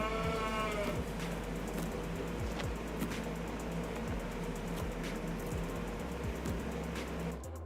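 Cattle in the Farming Simulator 22 game moo repeatedly, several low drawn-out calls spread steadily through the scene over constant farm-machinery engine rumble, with no talking.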